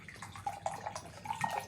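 Mountain Valley spring water poured from a glass bottle, a steady trickling and splashing stream lasting the whole moment, close and moderately loud with no talking.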